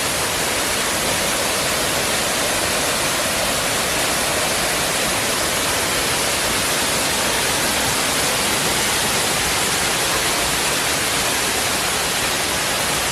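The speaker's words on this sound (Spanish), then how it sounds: "Ahora me voy a meter debajo de una cascada que es pequeña" Steady, dense rush of a small waterfall fills the whole clip, a constant close hiss and roar with no voices.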